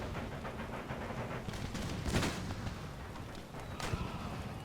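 Soldiers in Empire: Total War fire a musket volley, a quiet spread of rolling gunfire with a few sharper distant cracks standing out over a continuous low battlefield rumble.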